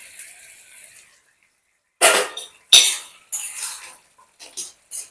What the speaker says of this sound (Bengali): আবার ওইগুলোকে একটু নাড়িয়ে নেব। আবারও কিছুক্ষণের জন্য ঢাকা দিয়ে রাখবো।